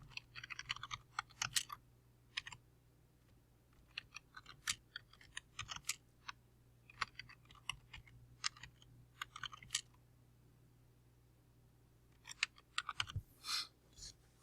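Bursts of quick keyboard typing as a program comment is entered, clustered clicks with short pauses between runs, close and clear over a faint low hum.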